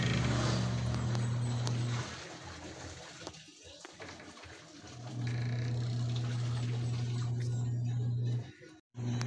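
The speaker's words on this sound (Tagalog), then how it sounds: "Sinasamantala po ni nanay na malakas yung agas ng tubig" A strong stream of running water pours continuously while a mother does a large load of laundry with many basins, a broad steady rush with a low hum beneath, briefly easing and then resuming.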